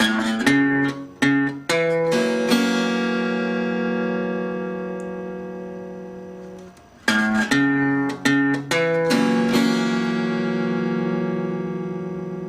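An acoustic guitar plays a country blues phrase: a few quick plucked notes and strums ringing into a long sustained chord, then the same pattern repeated, close and clear with no voice.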